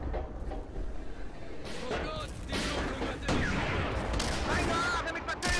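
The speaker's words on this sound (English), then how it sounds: "Okay, why are we shooting all over the place?" Gunfire in the tank game Steel Fury Kharkov 1942: repeated bursts and heavy shots crack over a constant rumbling engine and battle bed, loud and close, with a voice talking through it.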